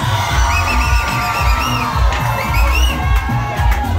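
A loud outdoor crowd cheers and shouts for a weightlifter at a regatta competition in Carriacou, with whoops, high voices and rhythmic bangs running steadily throughout.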